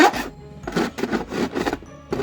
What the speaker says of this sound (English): I'll just give it a little bit of a file